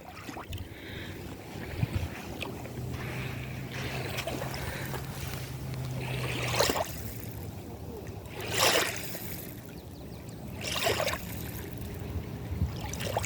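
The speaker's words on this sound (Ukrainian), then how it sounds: "і сюди вже хвилі" Waves on a river wash against the embankment in a steady, soft broadband rush, with a few louder surges swelling and receding; no talk.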